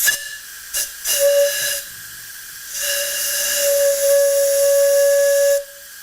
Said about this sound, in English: you can get it to make a whistle sound.